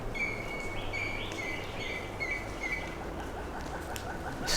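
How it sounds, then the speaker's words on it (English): An African bird calls in repeated short, high whistled phrases over several seconds, fairly faint against a steady outdoor background hiss, with no talking. "I just asked my guide what it was and she said it's a bird."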